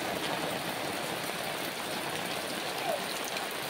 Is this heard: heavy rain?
yes